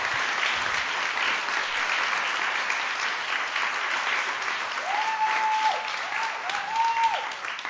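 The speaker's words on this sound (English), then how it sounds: "So I'd love for us to applaud Leah one more time because she deserves it." Steady, dense audience applause fills an award ceremony honoring a visionary leader, sustained and even throughout, with a few faint whoops rising near the end.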